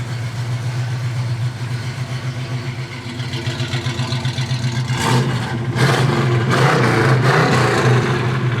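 A 1965 Pontiac GTO with cold air intake and dual exhaust, idling with a loud lumpy rhythmic pulse, then revving up in several strong surges close by, with no talk.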